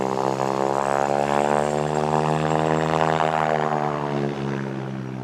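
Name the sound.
airplane taking off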